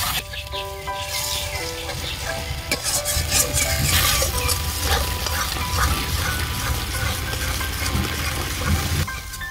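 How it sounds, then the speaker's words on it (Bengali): Spice paste for Bengali shukto is sautéed in a pan, a steady close sizzle with scraping stirs and occasional clinks of a utensil against the pan, continuing without talk. "তো দেখো মশলাটা সুন্দর করে কষিয়ে নিয়েছি"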